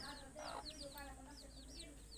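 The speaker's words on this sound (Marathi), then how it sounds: "कोंबड्यांच्या पिल्लांना सकाळ झाली." Baby chicks cheep in quick high chirps, several overlapping close by, with a faint background murmur.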